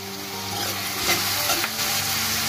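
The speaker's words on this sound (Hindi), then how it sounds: "अब इसमें हम डालेंगे कटे हुए टमाटर कैप्सिकम" Chopped tomatoes and capsicum frying with onions in a hot pan, producing a steady, close sizzle with stirring throughout and no voices.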